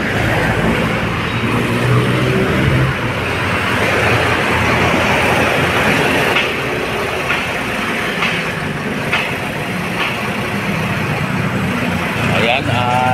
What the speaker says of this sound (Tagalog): Ayan, at nakita naman ninyo mga bayan ang mixer truck.